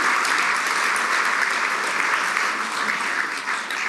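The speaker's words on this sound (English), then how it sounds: "So I thought we'd best have a wee round of applause for Gardina and Anne" Warm, sustained audience applause at a Ballads Club folk concert in Rutherglen, honouring two women; even, dense clapping from a seated crowd for several seconds.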